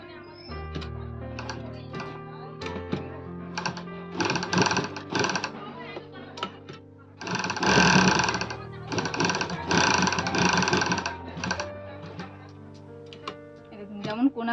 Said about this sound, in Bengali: এই দেখুন একদম ধার দিয়ে সেলাই করবো